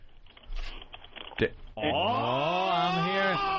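Light computer keyboard typing, a patter of soft key clicks over background noise for under two seconds, then cut off by a loud, sustained voice.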